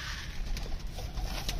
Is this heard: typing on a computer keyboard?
no